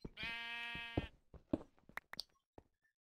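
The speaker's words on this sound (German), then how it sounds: "wir werden jetzt mein Schaf umsiedeln" A sheep in the video game Minecraft gives one loud, drawn-out wavering bleat, followed by a string of short, sharp game clicks and taps.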